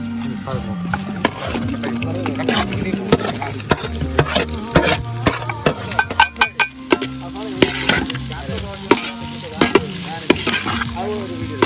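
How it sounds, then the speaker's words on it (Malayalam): Onions sautéing in a pan with browned garlic and ginger for a Kerala chicken dish, a steady frying sizzle with repeated sharp stirring scrapes, while a voice talks over much of it. "ഇനി നമുക്ക് നേരെ സവാള തട്ടി ഒന്ന് വശക്കി എടുക്കാം"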